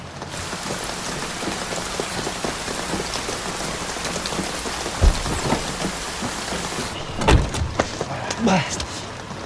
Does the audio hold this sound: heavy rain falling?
yes